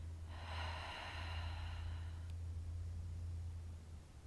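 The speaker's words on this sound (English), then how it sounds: "let's inhale. And an open mouth exhale" A long open-mouth exhale during a gentle yoga breathing exercise, a soft, breathy whoosh lasting about two seconds over a steady low hum, close and alone with no talking.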